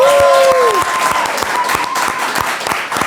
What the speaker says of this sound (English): A round of applause for the one and only Anne-Marie Duff.